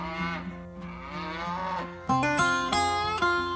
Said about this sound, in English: they're not afraid to voice their opinion by mooing at you